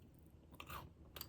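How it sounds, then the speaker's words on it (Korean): Someone chews a dense, heavy-textured Matdongsan snack close to the microphone, producing soft crunches and a couple of sharper bites over about a second, with no talking. "이거 하나당 되게 좀 묵직한 질감이어가지고 씹는데 꽤 걸려요"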